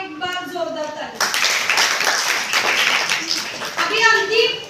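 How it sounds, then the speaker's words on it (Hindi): Children in a Hindi-language classroom burst into loud, dense clapping after a group activity, the applause running steadily for a few seconds, with a voice heard before and as it fades. "तो इनके लिए और एक बार जोरदार तालियां"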